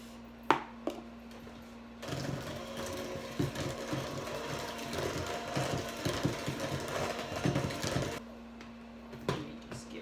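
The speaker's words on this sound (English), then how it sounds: "So we're beating after each ingredient." An electric hand mixer whirs through cheesecake batter, a steady mid-volume motor drone starting after a couple of seconds, with light clattering as the beaters knock the bowl, then cutting off near the end.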